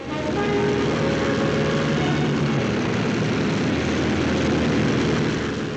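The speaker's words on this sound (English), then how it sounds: "the Princess flying boat is boarded by her pilot, Captain Tyson, and revved up" Princess flying boat's propeller engines revving up, a loud, steady, dense drone filling the whole stretch without pause and with no voices.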